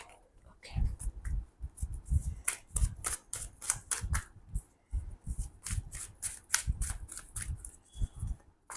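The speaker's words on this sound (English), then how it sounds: "Let me give this deck a good shuffle before" A tarot card deck being shuffled by hand, close up, in repeated soft riffling bursts and slaps with brief pauses between, alongside low murmured speech.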